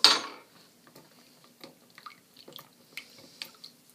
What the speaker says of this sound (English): Slowly start adding your gum powder into the water. Make sure you stir it thoroughly too.